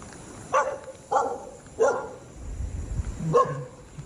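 A dog barks four times in short, spaced bursts, fairly close, over a low outdoor rumble at a resort in Pagudpud during a typhoon.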